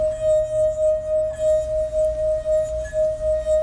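Glass singing as a wet finger is pressed and rubbed around the rim of a glass holding water, a steady pure ringing tone with a gentle pulsing wobble on each circuit, close and clear, with no talk.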